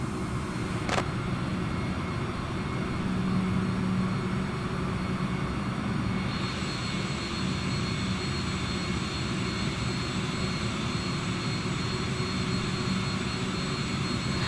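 A China Southern Boeing 787 jet on its takeoff run, a steady loud roar of engine noise holding throughout with broadband rumble and whine, no voices heard.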